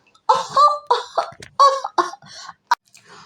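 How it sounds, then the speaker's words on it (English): A voice performer acts out a boy's long, ragged cough in a series of short, hoarse bursts over about three seconds, close and fairly loud, with no other sound. "then broke into a long cough"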